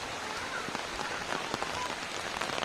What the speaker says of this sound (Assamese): তামান বৰষুণ দিছে